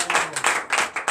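A church congregation at a Sunday service applauds in a short, uneven patter of many hands clapping, with soft bursts rising and falling at moderate distance.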